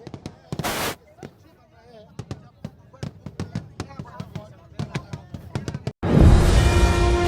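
Firecrackers burst one after another like small missiles, a rapid series of sharp, loud cracks at irregular intervals, then a sustained roaring blast near the end.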